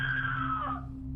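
A woman's high, wavering scream comes through a recorded phone call. It is thin and filtered and fades out after about a second over a steady electrical hum.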